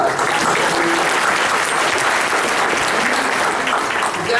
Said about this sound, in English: Let's throw a round of applause